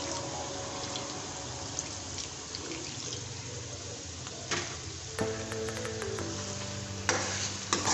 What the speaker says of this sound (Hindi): इसमें हम थोड़ा सा हस्बे ज़रूरत पानी डालेंगे।